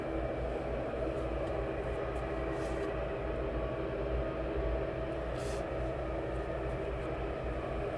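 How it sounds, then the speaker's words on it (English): Turboprop aircraft taxiing at East Midlands Airport: a steady, low droning engine rumble at moderate distance that holds evenly throughout without rising or fading. "we do have a turboprop or a prop aircraft sound like it's taxiing up at the moment"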